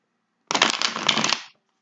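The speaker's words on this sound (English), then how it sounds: "They're telling me to shuffle again, so bear with me for just a second." A deck of tarot cards being shuffled in one quick, close riffle lasting about a second, crisp and papery, with no voices.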